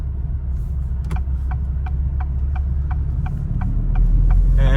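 A 2023 Acura Integra fitted with an MBRP exhaust drives along, its steady low engine and exhaust hum droning close and continuous, with a faint repeating tick and a slight rise in rumble near the end.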